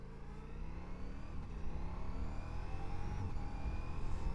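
A Ducati Multistrada V4 Rally at highway speed, picked up by a DJI lav mic under a closed visor: a steady engine drone rising gradually, buried in heavy, rushing wind roar, with no talking.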